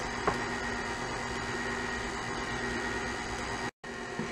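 An electric mixer runs on a low setting, giving a steady, even whir with a faint click near the start and a brief cutout near the end.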